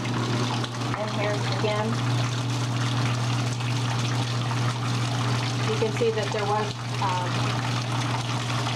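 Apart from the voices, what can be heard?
wringer washer tub draining water through discharge hose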